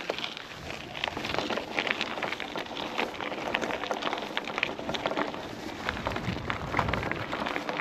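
Rain falling outdoors on a cloudy day in the countryside, a steady dense hiss of drops that stays even and moderately loud the whole time, with no voices.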